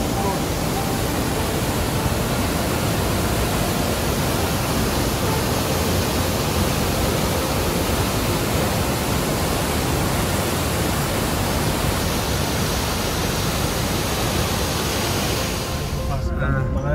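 Roadside waterfall on the way to Dawki in Meghalaya, a steady, dense roar of falling water filling the whole stretch without a break, loud and close, with no talk audible over it.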